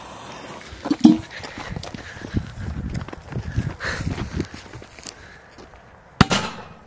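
A small Bomb 0.49 g firecracker, set off under a pot, bursts with a sharp crack after a stretch of scuffing and handling noises, the single loud bang standing out near the end.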